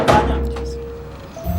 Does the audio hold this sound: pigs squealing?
no